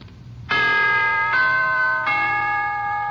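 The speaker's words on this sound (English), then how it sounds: "To put it in musical form, here is a holiday wish from the NBC Chimes." NBC chimes radio signature: three loud, clear bell-like tones struck in sequence and each left ringing into the next, heard alone with no talking over them.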